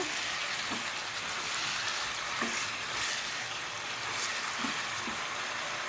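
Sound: chicken meat frying in a pan

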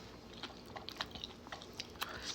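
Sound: eating rice with tai pla fish curry

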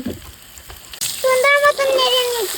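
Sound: turmeric powder and dried small fish added to frying oil

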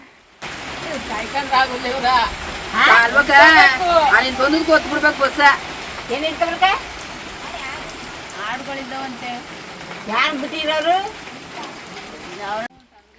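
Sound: rain

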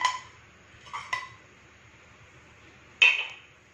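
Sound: mixing ginger garlic paste in a bowl

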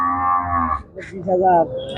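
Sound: cow mooing

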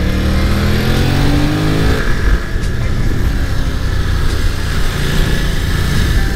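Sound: Yamaha R7 motorcycle engine revving through corners

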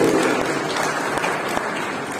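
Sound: audience applause

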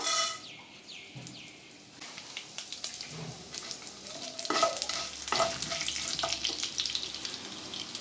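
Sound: tempering seeds frying in oil

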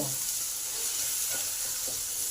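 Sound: turmeric and cumin powder frying with tomato

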